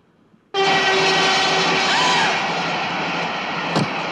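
A train from the 1977 Bond film The Spy Who Loved Me rumbles steadily and loudly after a sudden start, with a sustained horn-like tone and a brief sharp clatter near the end.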